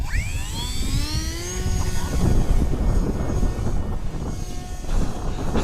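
An H-King Bixler 3 RC plane's electric motor whines in flight over grass, its pitch sweeping up and shifting as it passes, with wind rumble on the microphone.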